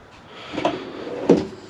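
Wooden drawer in DIY van conversion furniture being opened or closed, two soft thuds and slides about half a second apart, close by and moderately loud, with no talking.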